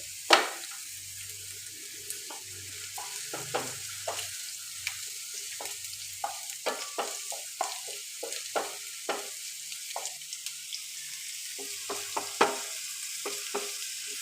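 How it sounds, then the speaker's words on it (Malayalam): Steady sizzling of ginger frying in coconut oil over low heat, with scattered crackles and pops and occasional soft stirring scrapes, close by with no voices. "അതിന് വെളിച്ചെണ്ണ ഒഴിച്ചു അതൊന്ന് വറുത്തെടുക്കണം."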